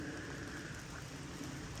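Steady rain falls outdoors in the woods, a soft, even hiss of drops that continues without a break.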